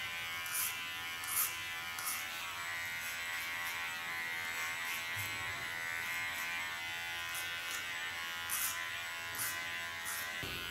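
Electric clippers doing a side shave on a woman's hair buzz continuously and steadily at close range, with slight changes in tone as the blades move against the hair and no talking.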